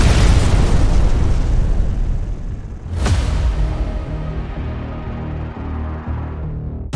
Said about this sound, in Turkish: Dostlarım çok büyük patlama oldu.